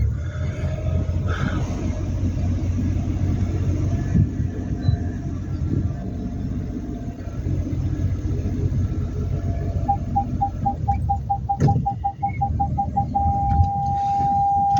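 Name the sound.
car maneuvering during parallel parking driving lesson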